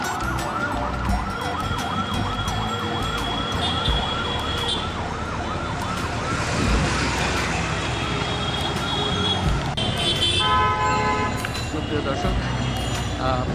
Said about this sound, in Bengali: সারাক্ষণ সাইরেন বাজতেই থাকে অ্যাম্বুলেন্সের